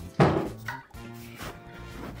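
Wooden drawers in a hotel suite bathroom vanity are opened and shut, giving a firm thunk followed by softer sliding knocks, close and fairly loud in a quiet room.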